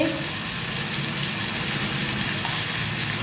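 Cauliflower curry frying with cumin powder, a dense continuous sizzle filling the clip, close and steady without pause.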